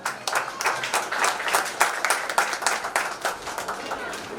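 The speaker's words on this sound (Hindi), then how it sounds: "एक बार जोरदार तालियां।" An audience claps loudly at a Rotary Club installation ceremony in Gadarwara, the dense applause running steadily and close for several seconds with no one talking.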